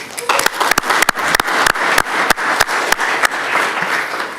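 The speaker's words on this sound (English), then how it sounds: "Let's give them a round of applause for that." A crowd applauds at a county commissioners meeting honoring an undefeated girls' team, steady close clapping with sharp individual claps standing out, sustained through the whole stretch.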